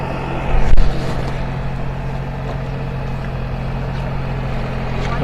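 A Kubota SPV-6-MD rice transplanter runs with a steady, loud engine drone and low mechanical rumble, its planting fingers pushing paddy seedlings into the field; a brief louder knock rises near the start, with no talking.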